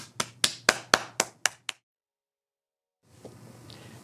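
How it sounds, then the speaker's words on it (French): Toddlers around two years old clap for themselves after a snowman activity, about seven sharp, close claps in quick succession, then silence, then quiet room noise returns. "Les ratons, on peut s'applaudir."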